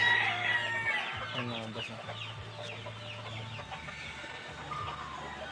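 Three-month-old gamecock stags of a white-leg line cluck and call repeatedly during a bath. Someone talks over the birds throughout.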